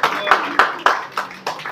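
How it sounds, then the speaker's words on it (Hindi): Applause for Purushottam ji at a Red Cross World Blood Donors Day event in Faridabad, a few loud, close claps in a loose rhythm with room echo. "एक बार जोरदार तालियों से पुरुषोत्तम जी के लिए"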